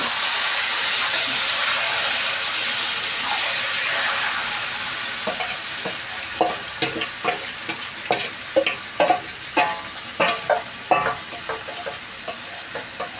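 Meat dropped into hot oil with fried onions, a loud continuous sizzle and hiss at first, then settling into a rhythmic series of scraping stirs over a softer fry.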